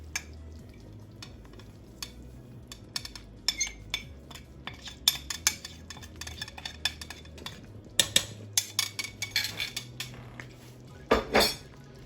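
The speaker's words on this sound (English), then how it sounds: "Give it a very big stir" A spoon scrapes and clanks against a pot of Nigerian egusi soup with salt and crayfish just added, giving irregular metallic knocks and stirring scrapes over a soft background simmer, loudest in a burst of clatter near the end.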